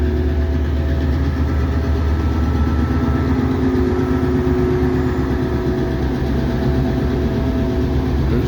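A heavy diesel railroad locomotive engine rumbles steadily at idle, a constant low drone with mechanical throb and no voices throughout.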